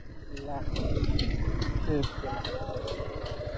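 A motorbike that keeps breaking down runs with a steady, throbbing idle-like putter close by, its pulses repeating evenly throughout while people talk over it.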